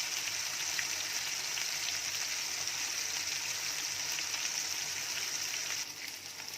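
Fish fry steadily in a hot pan, giving a bright, even crackling sizzle close to the microphone that holds without pause before easing slightly near the end.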